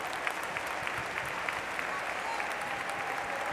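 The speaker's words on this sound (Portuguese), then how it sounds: "Vamos lá, palmas!" Audience applause at a Brazilian women's church congress fills the whole stretch as a dense, steady wash of clapping, with faint crowd murmur underneath.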